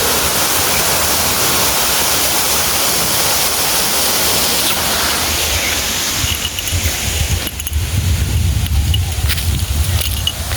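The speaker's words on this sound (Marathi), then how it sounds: "पाणी पडतं तिथून इकडं." A small waterfall pours water steadily, a dense, close, continuous rushing and splashing that grows heavier and lower in the final seconds, with no talk.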